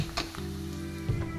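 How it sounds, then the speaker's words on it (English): Onions frying in a hot pan make a close, steady sizzle with a low hum underneath and a few soft stirring knocks, no talking over it. "I will fry some onions."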